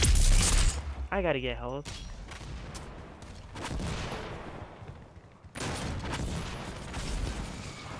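Bursts of gunfire from a very deadly weapon in a video game, loud and repeated across the clip, mixed with game effects while someone talks over it.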